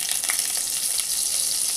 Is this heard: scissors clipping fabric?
no